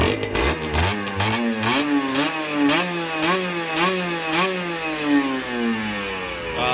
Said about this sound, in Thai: ฟังเสียงเบิ้ลนิดนึง